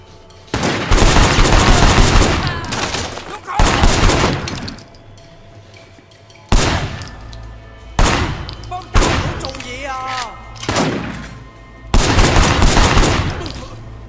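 Gunfire in a Sleeping Dogs shootout on PC: loud bursts of shots in several clusters with short quieter gaps, close and harsh, against a shotgun-armed enemy.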